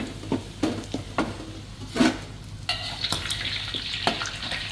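Boiled, thinly sliced beef dendeng stir-frying in a pan with seasoning and sweet soy sauce, a close sizzle broken by several sharp spatula scrapes and clanks, then a steadier hiss.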